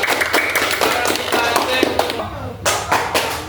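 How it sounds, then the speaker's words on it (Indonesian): A group claps in rapid, dense applause that fades near the end before a few more claps, with voices mixed in. "tepuk tangan untuk kelompok merah"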